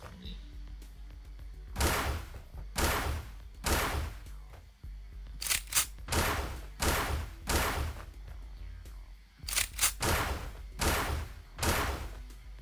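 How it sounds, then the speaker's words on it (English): Bursts of gunfire in the puzzle video game DROD, roughly a dozen sharp broadband blasts in irregular clusters, some in quick pairs, loud against a quiet low background hum. "And I've got to shoot my way through."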